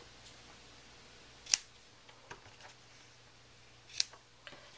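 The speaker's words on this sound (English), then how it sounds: "So I'm just going to tie this in a knot here. And then just trim my ends." Scissors trim the knotted thread ends on a handmade Easter card in two short, crisp snips about two and a half seconds apart, close and quiet, with faint handling noise between and no talking.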